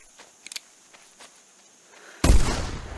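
Video game shots fired at rabbits during a hunt: light faint taps early on, then a sudden loud burst after about two seconds that rings and decays.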